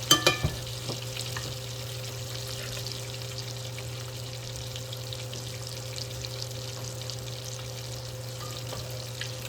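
Blackened fish frying in a pan, giving a quiet, steady sizzle throughout with a few louder clicks at the start and no talk.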